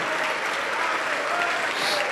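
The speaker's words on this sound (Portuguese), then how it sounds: "Vamos aplaudir mais o Senhor Jesus por cada vida que está chegando." Church congregation applauding steadily, a dense continuous wash of clapping from a large crowd, loud and close, with faint voices mixed in.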